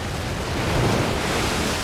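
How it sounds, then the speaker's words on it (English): Pacific Ocean waves crashing on rocks in a storm, a continuous loud roar of surf mixed with heavy wind buffeting, swelling slightly midway. "Waves are smashing and crashing on the rocks up there."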